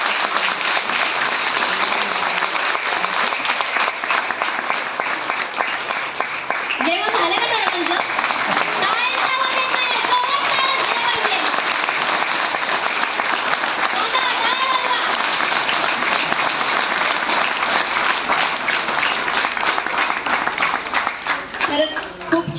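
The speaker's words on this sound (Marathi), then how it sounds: "एकदा जाधव सरांसाठी जोरदार टाळ्या झाल्या पाहिजे" A crowd at a Dhamma camp gathering applauds for a teacher. The clapping is loud, dense and continuous for the whole stretch, with children's and adults' voices calling out through the middle.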